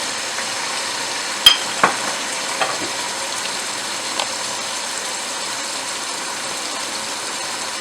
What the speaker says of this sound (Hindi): और अब मैं इसे अच्छी तरह भूनूंगी।